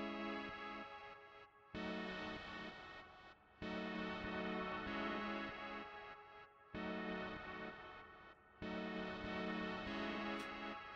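Taped Pad, a CMI-style synth pad preset from Analog Lab, plays sustained chords that change in a steady pattern, each lasting about two seconds with short gaps between them, soft and alone.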